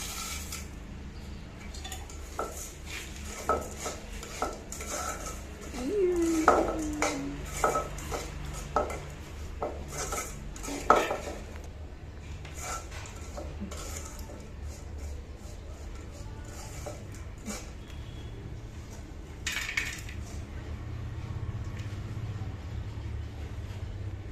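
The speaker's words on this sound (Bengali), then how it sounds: "চারি ভাজা বাদাম পাক দিলাম একসাথে" Roasted rice and peanuts stirred together in a metal pan, giving dry scraping and clinking strokes in irregular bursts at moderate level, with no talk.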